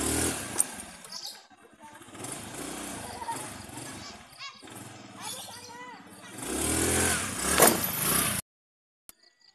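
An automatic scooter engine revs with a rough, rising and falling drone while voices talk over it, then the sound cuts off abruptly near the end.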